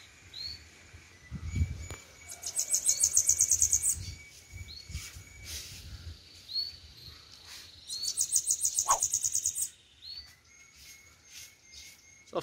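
Bananaquit (sibite) singing near a caged female, two bursts of rapid, high, buzzy trills separated by a pause, over soft background rustles and low thumps.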